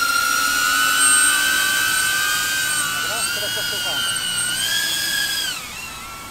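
A small FPV racing drone in manual mode flies past outdoors, a high whining buzz of propellers that holds steady and then shifts in pitch as it passes and moves away, with someone talking nearby.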